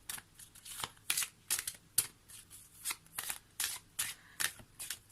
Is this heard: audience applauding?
no